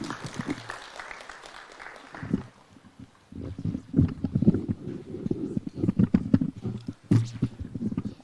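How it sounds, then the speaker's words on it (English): An audience at a Kenyan presidential event on Facebook monetisation claps steadily, a dense patter of applause that swells and carries on for several seconds in a large hall. "We can clap for him as he's coming."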